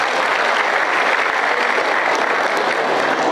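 A large crowd of high school students claps steadily for a few seconds, a dense and even burst of applause with no voices.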